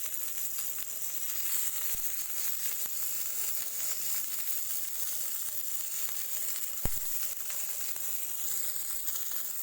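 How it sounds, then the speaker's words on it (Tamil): Paneer sticks fry in a pan over low heat with a steady, close crackling sizzle that holds throughout, plus a single soft knock partway through and no speech. "ஸோ ஃபுல்லாக இந்த மாதிரி டர்ன் பண்ணி நீங்கள் ஃப்ரை பண்ணுங்கள்"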